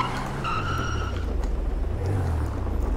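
Mazda Miata (MX-5) driven in GTA V, its engine a steady low drone throughout with a brief higher tone partway through, likely a tire squeal, and no talk.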